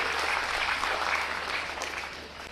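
Dense audience applause during a speech, a full wash of many hands clapping at once, loud and steady before easing slightly toward the end.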